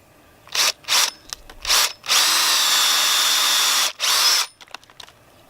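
A power drill bores a tap hole into a maple tree, with short whirring bursts followed by a long steady run and then another brief burst, close and clear with no talk.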